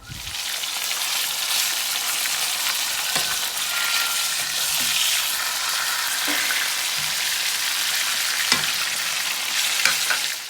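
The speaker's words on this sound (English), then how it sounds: "I got my grease pretty deep because I want to cook at least half of it at a time" Venison tenderloin aged 17 days sizzles and fries in deep grease in a cast iron pan on a wood cookstove, a steady loud crackle with occasional pops throughout, no talking.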